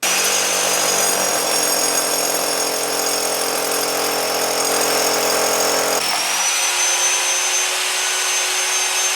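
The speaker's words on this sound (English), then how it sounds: "we've rented our concrete drill again" A loud, steady mechanical whine with a dense harmonic buzz runs throughout, shifting pitch and dropping its low rumble partway through, as a rented concrete drill bores holes for anchor bolts.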